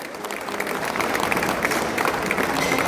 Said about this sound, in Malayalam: ഇന്ത്യൻ മെഡിക്കൽ അസോസിയേഷന് നിറഞ്ഞൊരു കൈയടി.